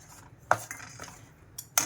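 A metal spoon clinks and scrapes against a pan while ghee and jaggery are stirred together, a few sharp taps spread over a quiet background.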